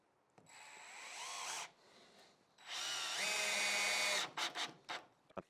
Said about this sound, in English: And each time we do that, we are going to screw each one in.